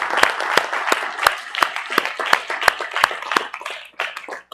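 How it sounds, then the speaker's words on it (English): A congregation claps hands together in a fairly steady rhythm, a dozen or so sharp, loud claps ringing out across a worship hall, thinning and trailing off near the end. "Give Mr. Yahuwah a hand clap because he's worthy."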